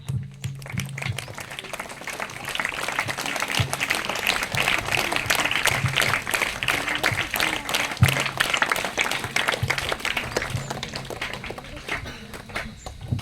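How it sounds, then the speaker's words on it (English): Steady applause from a school audience at a badge distribution ceremony for classes 6 to 9, sustained clapping throughout with a faint voice and low hum underneath. "You had huge round of applause for Harika"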